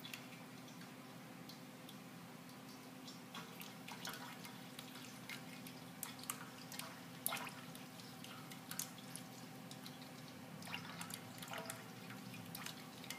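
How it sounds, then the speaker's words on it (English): Wort trickles back onto the grain bed through a perforated sparge distributor while brewing a spiced winter warmer ale, giving quiet, irregular dripping and ticking over a low steady hum, faint and with no talking. "it seems to work for distributing the wort back over top without disturbing the grain bed"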